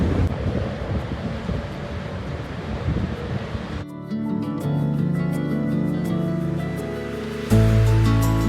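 Sea waves roll past a ferry on a calm crossing from Holland to England, a broad wind-buffeted wash heard for a few seconds before it gives way to a steadier tonal background.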